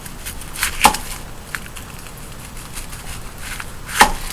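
A knife slicing through the base of a white onion, giving two sharp crisp cuts against a board about three seconds apart, close and fairly loud, with faint lighter taps between them.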